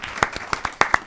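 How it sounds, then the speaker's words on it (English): A handful of people clap at a Union County freeholder meeting, with a few scattered, sharp claps coming in a brief, uneven burst close to the listener. "And I believe that deserves a big round of applause for that"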